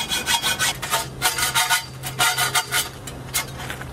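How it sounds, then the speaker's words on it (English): An old hand hacksaw cuts back and forth in a quick, steady rhythm of rasping strokes, close and loud, for a Halloween DIY project. No one speaks. "The old hacksaw. Old school."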